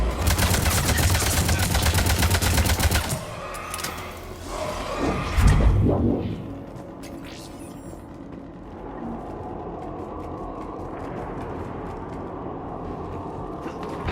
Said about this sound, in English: Shepard, I hear gunfire.